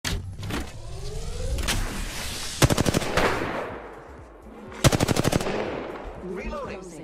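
Automatic gunfire in Apex Legends: two sharp rapid bursts of about six shots each, loud and close, over dense game effects and engine-like rumble, with other shots and impacts scattered between them.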